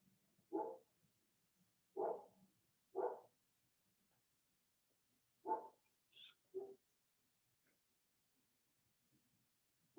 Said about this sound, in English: Apologizes for the dog in the background if you can hear it.